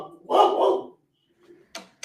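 A dog barks nearby in a home during a live podcast recording, giving one loud, drawn-out bark, then a faint yip and a short second bark after a pause.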